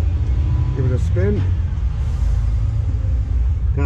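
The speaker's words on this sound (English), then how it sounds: "Can't hear now because there's a poxy truck driving past." A heavy truck rumbles past at close range on a road beside someone working on a Honda Deauville 650 motorbike, a steady loud low roar lasting throughout while someone talks briefly over it.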